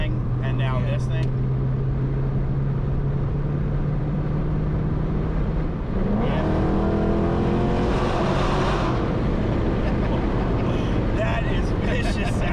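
A ProCharged 5.7-litre Hemi car engine idles with a steady low drone, then revs hard midway into a rising, rasping roar that swells and fades; voices talk over it.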